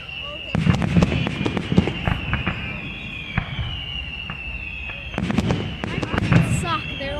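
Fireworks bursting in quick clustered volleys of sharp bangs and crackles, some near and loud, with quieter pops between bursts and people talking over them.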